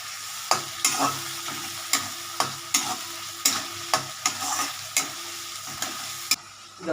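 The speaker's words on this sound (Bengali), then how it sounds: "ভাজা বড়ি হালকা হালকা ভাজা করে নিই" Lentil dumplings (bori) fry lightly in a pan, a close steady sizzle punctuated by regular scraping stirs roughly every half second, with no one talking.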